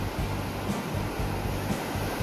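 Ocean surf at a beach in Goa rolls in as a continuous broad roar of breaking and washing water, close and fairly loud, mixed with some wind rumble and no voices.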